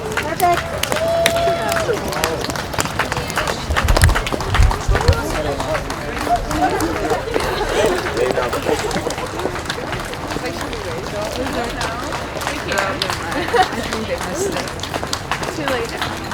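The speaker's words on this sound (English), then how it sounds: "now we're starting to clap in rhythm" A commencement ceremony crowd claps together in a steady rhythmic beat, a dense wash of hands sustained throughout, with voices talking over the clapping and general crowd murmur.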